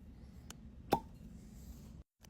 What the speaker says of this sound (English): That was an excellent cork pop.